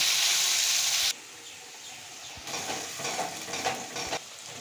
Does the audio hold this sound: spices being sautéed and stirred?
yes